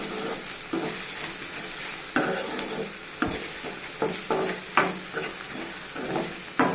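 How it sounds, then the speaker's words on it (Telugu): Okra pieces fry in a pan with a soft, steady sizzle while a spoon stirs them, scraping and clinking against the pan in irregular strokes. The sound is close and fairly quiet. "కలుపుతూనే ఉండాలండి, ఎందుకంటే కింద మాడిపోతుంది."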